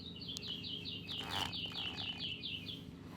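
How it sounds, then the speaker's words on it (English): A small bird chirps in a quick series of about a dozen bright, evenly spaced tweets over a faint background, the calls stopping shortly before the end. "The bird looked at Percy. Then he flew up onto Percy's buffer."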